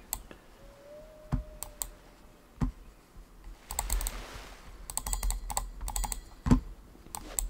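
Sharp mouse clicks come in irregular bursts, some single and some in quick rapid runs, close and fairly loud against a quiet background with no talking.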